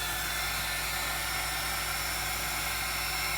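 A heat gun blows continuously over a small silicone craft mat. The rushing, even whir holds steady throughout with no voices.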